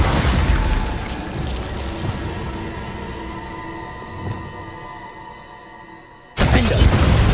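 A Glacius freezing spell is cast in Hogwarts Legacy, a loud crackling burst that fades into a long shimmering icy decay before a sudden loud impact cuts in near the end.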